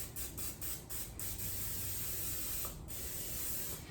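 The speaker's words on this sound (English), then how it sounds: "I'm just spraying my casserole dish with a little nonstick spray" A steady hiss of aerosol nonstick cooking spray onto a casserole dish runs nearly unbroken for several seconds, close up, with a brief pause near the end.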